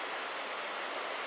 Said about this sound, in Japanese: いい感じの波、